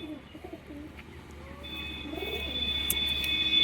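Soft cooing from a pair of Madras flying pigeons, low and rounded, repeats close by over a quiet background, with a faint higher chirp near the end.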